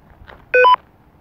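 A mobile phone gives a short two-tone electronic beep outdoors among trees during a nighttime ghost hunt, a single clear burst of about a quarter second over quiet background.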